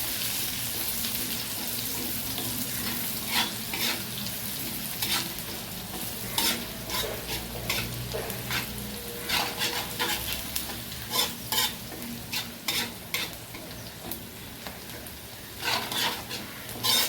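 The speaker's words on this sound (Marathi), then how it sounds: "इकडे टाकते जिरं आणि आता हे व्यवस्थित आपण हलवून घेणार आहोत" Cumin seeds frying in oil in a pan for Maharashtrian pithla, a constant close sizzle broken by repeated spoon scrapes and clinks as it is stirred, growing more rhythmic toward the end.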